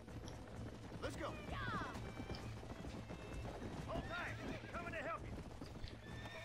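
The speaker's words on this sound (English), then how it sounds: "Okay, so there's the horses," Horses in the video game Red Dead Redemption on Xbox 360 give several shrill whinnies over a busy patter of clip-clopping hooves, fairly near and mixed with other game sounds.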